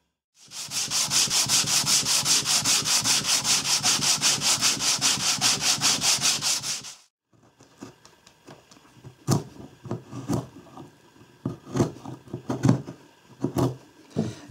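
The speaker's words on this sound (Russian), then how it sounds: "я 800-й наждачкой сейчас обработаю" Wood is sanded by hand with 800-grit sandpaper in a steady, rapid back-and-forth rasping rhythm for several seconds, then scattered knocks and handling noises follow.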